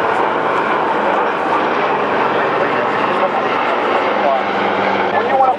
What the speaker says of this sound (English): Right now, you see flying over is a B-17 bomber, as one of the primary bombers, heavy bombers during World War II.